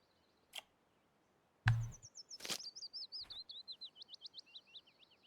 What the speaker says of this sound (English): eagle or something making a noise.